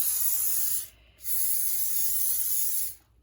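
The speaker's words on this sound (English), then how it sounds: "I also spray the beignets themselves." Vegetable oil cooking spray hisses onto hand pies in two short, close bursts, the second longer than the first, separated by a brief pause, with no talking.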